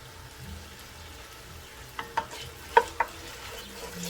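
Onions sauté quietly in a pot for lentil soup, a soft low sizzle with a few sharp spoon clinks against the pot near the middle, no voices.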